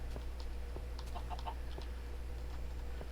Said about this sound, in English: Why do I hear a chicken?